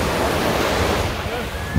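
Ocean waves at Waikiki beach, Hawaii, wash loudly and close in a continuous broad rush, with some wind buffeting the microphone.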